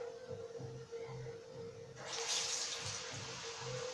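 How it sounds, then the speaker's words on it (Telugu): Two cups of water pour into a pan while making murukulu dough. A steady splashing gush starts halfway through and runs loud to the end, over a constant background hum. "ఇప్పుడు ఇందులో నేను 2 కప్పులు నీళ్ళు యాడ్ చేసుకుంటున్నానండి."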